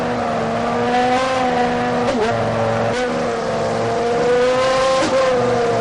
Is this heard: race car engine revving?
yes